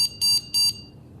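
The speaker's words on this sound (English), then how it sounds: "and you hear the beep" A glucose sensor gives three short, high electronic beeps on starting, in a quick, even sequence, close and clear, followed by quiet.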